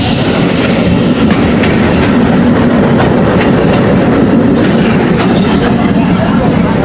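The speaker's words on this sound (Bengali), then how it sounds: "ট্রেন চলে আসছে, ওই যে দেখা যাচ্ছে ট্রেন।" A crowded passenger train rolls into a station, its loud, continuous rumble filled with rhythmic clickety-clack from the wheels over the rails, close and dominating throughout.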